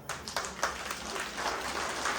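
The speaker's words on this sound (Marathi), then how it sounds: "हात वरती करून टाळ्या वाजवा" Applause from a women's gathering at a haldi-kunku home minister game, a soft, fairly distant patter of clapping that keeps on steadily.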